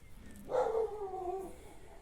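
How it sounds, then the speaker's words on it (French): Dogs barking near a vegetable garden: a single short bark that trails into a brief whine, heard at a moderate distance against quiet outdoor background. "il semblerait que les chiens s'énervent"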